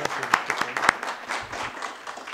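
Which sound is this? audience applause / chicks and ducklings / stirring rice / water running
audience applause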